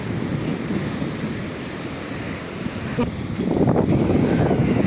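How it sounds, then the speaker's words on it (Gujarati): Sea waves breaking on the shore near a seaside temple, a rolling broadband wash with wind noise on the microphone that swells louder toward the end. "મોજા ફૂટે છે."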